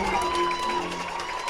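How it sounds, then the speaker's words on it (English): A stadium crowd roars and cheers at a Baycats baseball game at Vintage Throne Stadium, a dense, sustained wall of cheering with a voice speaking over it. "Listen to this crowd at Vintage Throne Stadium"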